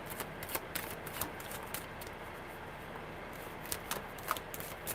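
Tarot cards shuffled by hand at close range, a run of soft irregular riffling and shuffling flicks with brief louder snaps, heard alone without talk.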